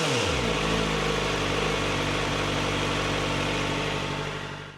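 A Kawasaki ZX4RR with its factory exhaust runs steadily and loud up close, a dense buzzing engine note with a rising rev at the start, then holds and fades slightly at the end.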